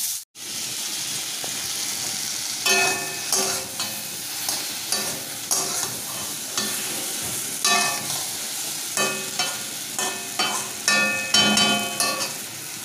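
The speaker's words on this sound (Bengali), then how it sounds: "পটলটা ভাজছি, এবার এই আলুগুলো ভাজবো" Potatoes fry in a wok with spices, a constant sizzle punctuated by repeated close scraping stirs in an uneven rhythm, after one sharp knock at the start.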